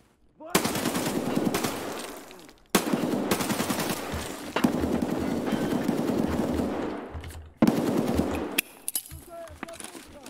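Loud automatic gunfire from the video game Escape from Tarkov in the TerraGroup Labs map, fired in long sustained bursts separated by short gaps, close and dominant.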